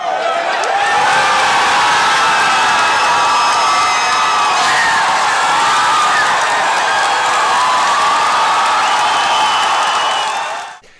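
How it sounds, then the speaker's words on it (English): A crowd of kids cheers and whoops during a SpaceX launch broadcast. The loud, continuous roar of shouts and applause holds for about ten seconds, then drops away at the end. "it's like a college football game with these kids cheering"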